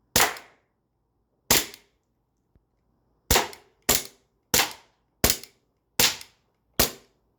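A CO2 pistol fires eight sharp shots with uneven gaps until the magazine empties, each crack close and loud against silence, with a faint click between the second and third shots.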